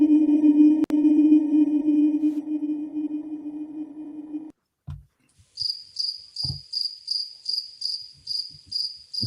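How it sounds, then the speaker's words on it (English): A cricket recording first plays slowed down as a steady low droning hum, then switches to regular speed: a run of evenly spaced, sharp, high chirps, loud and close with a few soft knocks. "A lot of times you can find it just by putting crickets tuned down."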